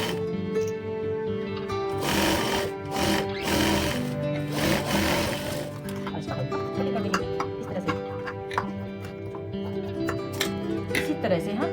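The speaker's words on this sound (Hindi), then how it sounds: "अब इसको हम पलटी करके इस तरह से पूरा कच्चा सिलाई मार लेंगे।" A sewing machine runs a long basting seam on a patiala dress, a steady close mechanical whir and rapid ticking of the needle that starts loud, then continues in lighter, choppier bursts.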